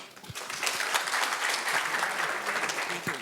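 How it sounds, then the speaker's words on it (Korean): Audience applause at an agricultural forum seminar, a dense burst of hand clapping from a room of listeners, steady and moderately loud for a few seconds. "박수 부탁드리겠습니다"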